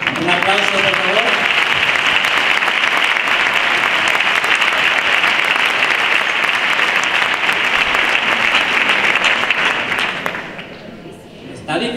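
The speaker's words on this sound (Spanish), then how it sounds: "Un aplauso, por favor." Loud sustained applause from an audience at a Christmas concert by a municipal band fills the room, dense and steady before fading toward the end, with a brief voice at the start.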